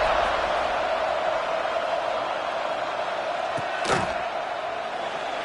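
A football stadium crowd roars at kickoff of an LSU versus Oklahoma game, a dense, sustained wash of cheering with a brief thump partway through.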